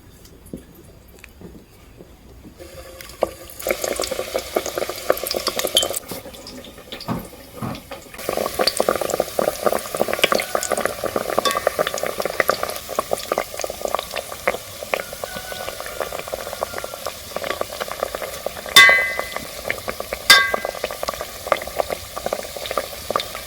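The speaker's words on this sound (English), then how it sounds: "I'll pick one pinwheel and then I'll add it to the oil." Steady crackling and sizzling of hot oil frying dough pinwheels, continuous and fairly loud, with a few sharper pops near the end.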